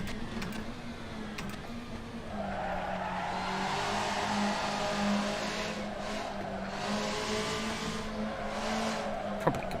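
Racing car in Assetto Corsa skidding through a corner, a sustained loud tyre squeal riding over a steady engine drone for nearly the whole stretch, with no voices.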